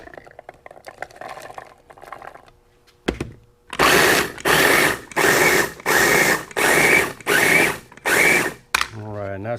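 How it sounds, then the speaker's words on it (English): A Ninja food processor roughly chopping Tabasco peppers whirs loudly in seven short, even pulses, each a dense grinding roar with brief pauses between. "we are going to put those peppers in this Ninja right here, and we're just going to give them a rough chop"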